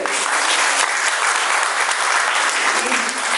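Steady, dense applause from a large crowd at a dialysis patients' gathering, clapping continuously at an even loudness throughout.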